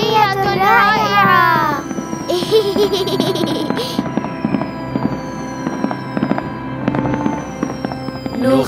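Fireworks burst in an animated Islamic children's cartoon, a run of loud crackling pops and bangs spread across the scene, joined by a child's laughter and cheerful voices over a bright musical backdrop.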